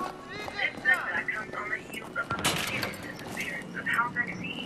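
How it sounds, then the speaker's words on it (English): Battlefield 3 gunfire crackles in bursts and sharp shots, with one loud blast in the middle, layered under excited players talking over each other. "Where the hell are they shooting from?"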